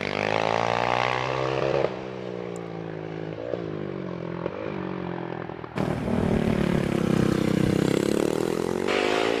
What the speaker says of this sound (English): Doug Parnell, well-known name in this championship, on a lovely Yamaha ZRF